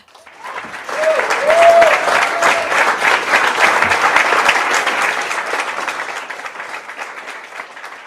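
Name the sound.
audience applause at opening ceremony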